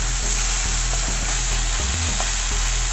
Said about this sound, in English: and fry it.